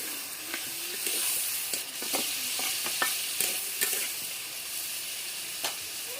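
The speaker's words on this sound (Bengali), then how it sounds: "পেঁয়াজটা ভালো করে ভেজে দেবো।" Onions fry in a pan with salt added, giving a steady bright sizzle throughout, broken by scattered clicks and scrapes of stirring.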